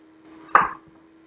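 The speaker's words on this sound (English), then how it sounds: "now I'm just going to cube them a little bit" A single knife chop through potato slices on a cutting board, one short close thud with a brief crisp attack, alone in a quiet kitchen.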